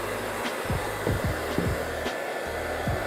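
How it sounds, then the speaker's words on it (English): A heat gun running on its low setting while adhesive on a radio transmitter grip is softened: a steady, loud, airy blower roar close to the device, with faint scraping and handling noises under it. "like to use a heat gun on a low setting to get it to loosen up"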